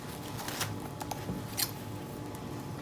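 Scissors cut ribbon for a flower box centerpiece, with a few crisp separate snips close by over quiet room hiss.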